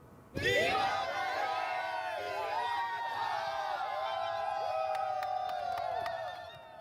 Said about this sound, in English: A lot of energy there from a small but mighty crowd of Moroccan fans